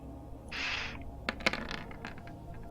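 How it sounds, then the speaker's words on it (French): Three dice rattle and clatter across a surface in a quick burst of small hard clicks during a tabletop role-playing game, fairly close and quiet, following a short scraping shake. "Donc je lance mes 3 dés"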